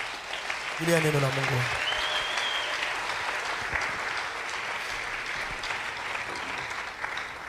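Church congregation applauding in sustained, dense clapping that fills the room, with a voice briefly rising near the start and the applause continuing steadily to the end.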